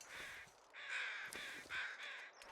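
Carrion crows in The Long Dark give three harsh, drawn-out caws with short gaps between them, at moderate distance, with no voices.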